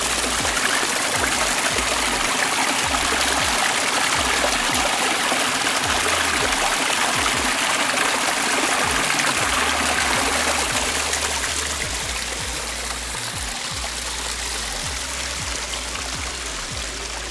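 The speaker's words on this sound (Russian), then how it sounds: "Водопады. Причем это не один водопадик здесь такой." Steady rushing and splashing of several small waterfalls in a pine forest in Vitebsk Region, Belarus, a constant close-up flow of water filling the scene with no voices.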